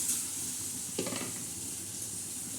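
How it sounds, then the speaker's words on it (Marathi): Capsicum curry being stir-fried in a pan, a soft steady sizzle with one brief clatter of a spatula partway through, quiet and close, no talking. "हे चांगलं असं परतून घ्यायचं"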